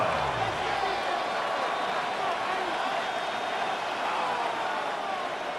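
Steady stadium crowd roar from a Madden NFL 26 video game simulation of an NFC Championship football game, a continuous dense wash of noise holding at an even level throughout without distinct cheers or spoken words.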